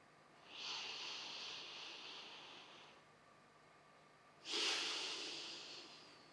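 Two slow, quiet breaths during a relaxation breathing exercise: a long airy inhale through the nose, a pause, then a stronger, hissing exhale, close and alone in a quiet room.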